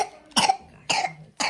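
Three separate coughs from one person, each a short harsh burst with pauses between, close and fairly loud, with no talking.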